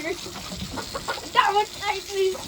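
Chickens cluck and squawk on a chicken farm as people try to catch them, the close, irregular clucks mixing with voices talking.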